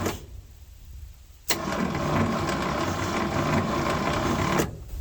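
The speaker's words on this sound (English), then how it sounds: "It fired out the exhaust" An abandoned 1971 Ford F100 with an FE 360 engine cranks with a rapid, even mechanical chatter that starts suddenly and continues loudly for about three seconds before stopping.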